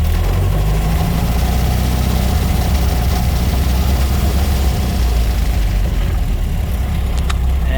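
Engine of a 1927 Chevrolet Capitol AA delivery truck running, a loud, steady low rumble heard close up and continuously, with no voices over it.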